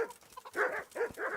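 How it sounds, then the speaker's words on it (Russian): A dog in the medieval video game Kingdom Come: Deliverance gives several short, close barks and yips in quick succession, with no talk over it. "Да ладно, не гавкай."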